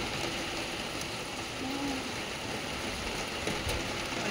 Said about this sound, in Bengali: জোরে বৃষ্টি নেমে গেছে